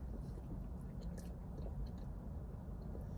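Close, soft chewing of a bite of glazed Krispy Kreme Oreo-filled donut, steady moist mastication sounds heard near the mouth without talk.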